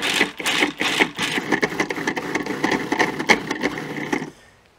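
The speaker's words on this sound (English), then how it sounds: "At this point I want to pulse it up a bit before we add that in." A food processor pulses pesto ingredients before the olive oil goes in, giving several loud, close whirring bursts with brief gaps, then a stop and near silence at the end.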